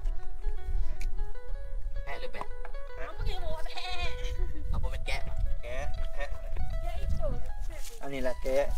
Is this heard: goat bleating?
yes